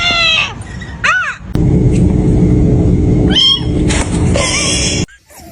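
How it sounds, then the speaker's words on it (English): A kitten meows several times in short, rising-and-falling cries, loud and close, separated by a steady low background rumble. "You meow."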